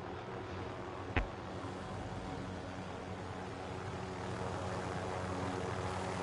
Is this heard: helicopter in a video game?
yes